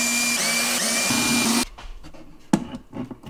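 A power drill whines steadily for about a second and a half while drilling holes to mount an over-the-range microwave hood, then stops, followed by a few clunks and scraping handling noises.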